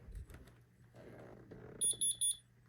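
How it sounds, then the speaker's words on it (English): An Ademco 6139 alarm keypad chimes with three quick high beeps near the end, after a stretch of low room noise and handling sounds. "It's the same as the other keypads, just beep, beep, beep."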